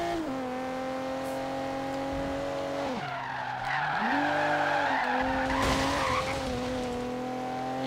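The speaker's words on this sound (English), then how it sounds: "Let's see if it can drift." A Volvo Polestar drifts in Forza Horizon 3, its engine holding a steady loud drone while the tires skid and squeal continuously, the pitch dipping briefly mid-slide before rising again.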